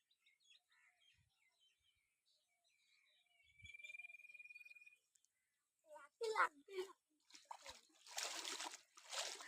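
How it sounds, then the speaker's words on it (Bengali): A person wades into water, and loud broadband splashes and sloshing arrive in bursts in the second half. Earlier there are soft bird chirps and a sustained whistle-like tone, and voices are present. "কাকা নেমে গেল জলের মধ্যে"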